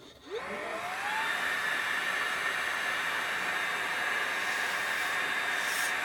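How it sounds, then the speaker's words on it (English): A small battery-driven vacuum cleaner draws air through a thin soda straw, starting up with a quick rising whine, then holding a steady, loud, close hiss-and-whir throughout. "battery-driven vacuum cleaner and a little straw for soda or slush ice"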